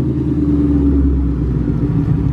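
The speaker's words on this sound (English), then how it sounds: "It is a hardtop convertible Mustang. And he just flew by, and this thing is loud." A loud hardtop convertible Ford Mustang rumbles past up close, leaving a deep, continuous engine roar leaving a car show, with no voices over it.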